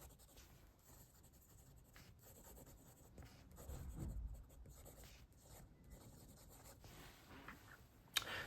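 A Gravitas Monster fountain pen scratches and glides steadily across paper, a soft continuous rubbing with small stroke variations and a brief tap near the end as the nib lifts off the page.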